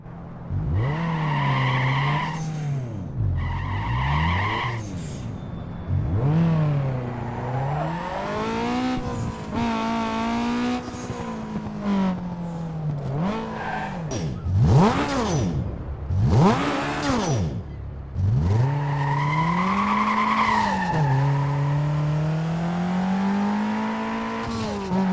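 Need for Speed Most Wanted and Underground 2 racing game cars, engines revving up and down through gear changes with repeated tire squeals and skids, loud and continuous over about 25 seconds.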